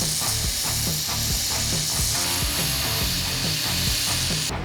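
A metal lathe turns a Damascus steel nugget while a carbide tip cuts away material, giving a steady, dense grinding hiss with a rhythmic low churn throughout that cuts off abruptly at the end.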